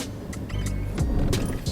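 Manual car driven by an 11-year-old learning to park, engine stalling after the clutch is released: a low idle that surges and then cuts out, with brief clunks and rattles heard close up.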